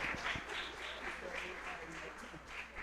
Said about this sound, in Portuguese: Aplauda o Senhor pela vida do Fernando.